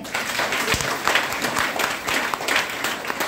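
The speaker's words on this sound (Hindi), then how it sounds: "ठोको ताली।" Applause from an audience at a Hindi-language health talk promoting DXN products, a moderately loud, steady wash of clapping lasting a few seconds with no voices over it.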